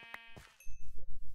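A sheep in the Minecraft video game bleats in a short, pulsing, buzzy burst of five or six quick throbs, preceded by a few brief sharp clicks.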